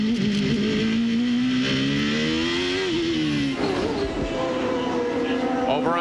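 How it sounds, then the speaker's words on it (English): A 1993 CART race car at the Long Beach street circuit howls past with a sustained high engine note that rises through the revs, drops sharply at a gear change, then climbs again, loud and near under race commentary. "Listen to the gears."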